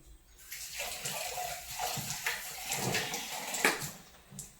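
Water splashes and trickles in short uneven bursts, poured from a vessel through a strainer into a basin, close and fairly quiet.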